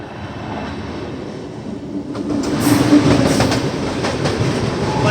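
The Banaras–Dehradun Janta Express rumbles along at loud, close range, its steady roar and clickety-clack of wheels over rail joints growing a little stronger partway through.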